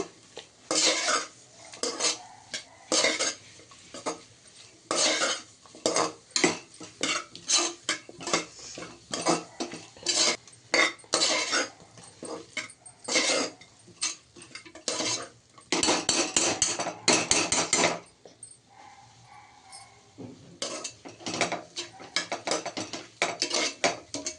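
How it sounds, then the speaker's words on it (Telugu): A spoon stirring ginger garlic paste in a pan for vegetable biryani, rapid clattering metal scrapes against the pan in quick bursts, close and loud, pausing briefly near the end before resuming. "జింజర్ గార్లిక్ పేస్ట్ వేసాక కంటిన్యూ తిప్పుకుంటూ ఉండాలండి, లేదంటే మనకు అడుగున మాడిపోతూ ఉంటుంది"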